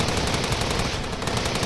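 Rapid machine-gun fire from the Steins;Gate 0 video game rattles in a dense, continuous burst, loud and steady throughout.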